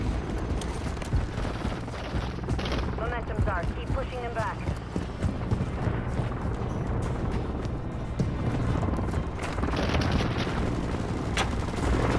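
Grenade blasts boom through a Call of Duty firefight, set in a dense, continuous bed of gunfire and battle noise, while players talk over the action throughout.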